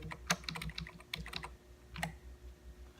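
Computer keyboard arrow keys tapped in quick, uneven clusters of clicks at close range while nudging a point in an animation program, with no talk over them.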